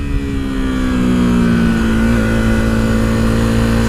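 A KTM RC390 sports motorcycle on a test ride sends out a loud, close engine drone that climbs steadily in pitch as it accelerates, with strong wind rush underneath and no talking.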